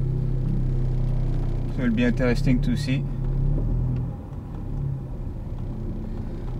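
Inside a stage 2 tuned 2017 Audi S3 8V Black Edition with a resonator delete, a constant low engine drone fills the cabin while driving, and someone talks over it briefly.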